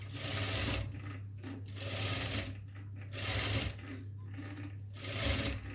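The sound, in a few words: sewing machine stitching a double-lining frock shoulder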